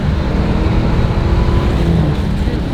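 Dodge Hellcat Redeye, a supercharged car, accelerating hard with a loud, steady, close engine roar that holds throughout with a slight dip near the end.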